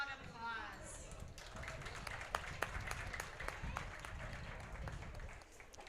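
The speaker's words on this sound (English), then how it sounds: "Let's give our winners a loud applause." An audience at a county fair rabbit and poultry show applauds the market poultry winners, scattered claps spreading into steady, fairly quiet applause, with voices underneath.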